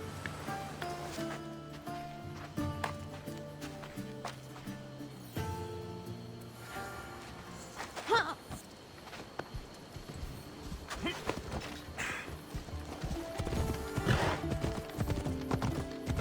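In Assassin's Creed Odyssey, a horse ridden across the game world gives steady clip-clopping hooves throughout, with a few whinnies over a continuous musical score.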